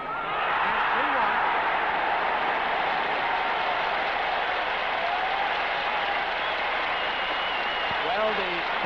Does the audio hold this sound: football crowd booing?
yes